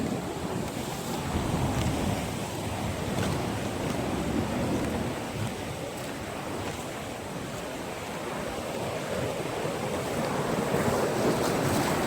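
Deep water surging against smooth rocky steps that lead down into it, a steady broadband wash of waves and surf mixed with wind noise, continuous and fairly loud with no pauses.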